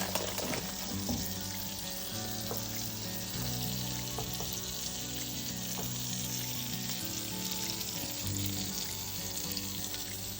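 Parmesan cheese frying over medium heat in a pan as the base of a mushroom omelette, a steady broadband sizzle running throughout with occasional light crackles, close and continuous, no talking.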